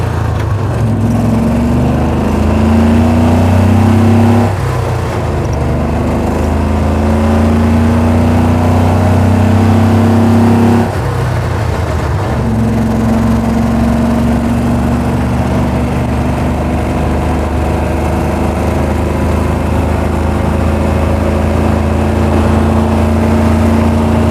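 A rear-wheel-drive Duzgo off-road vehicle's engine drones loud and close, revving up in two long rising pulls with a brief dip between them.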